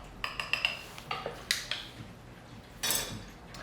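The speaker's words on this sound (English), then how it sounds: "I would give it a little stir." Metal spoon lightly clinking against a glass while stirring a lime cocktail, a quick series of small bright taps followed by a louder clink near the end, close and fairly quiet.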